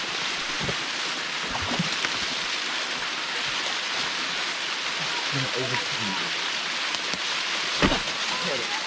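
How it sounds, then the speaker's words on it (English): A waterfall pours steadily in a loud, broad hiss of falling water that fills the scene without pause, with a voice talking over it now and then. "So there's a couple of things we can see about this here waterfall."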